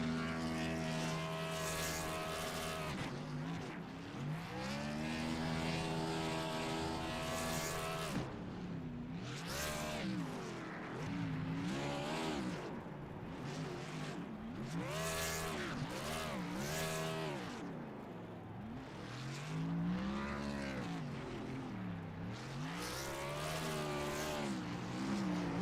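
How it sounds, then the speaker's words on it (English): A sim race car, the number 13 machine driven by a series champion at Las Vegas, does burnouts with a loud, sustained engine roar that rises and falls in repeated revving sweeps. "Let's watch the burnouts here for our new series champion, Jonathan Delaney, in that 13 machine"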